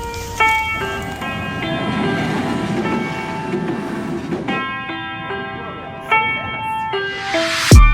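A Tokyo train runs along the track with a steady rumble, and bright tonal whines and chimes sound over it, moderately loud and close, with small bumps toward the end.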